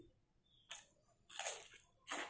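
Raw vegetables are bitten and chewed up close in two or three sharp crunching bursts separated by brief quiet pauses, with no talking.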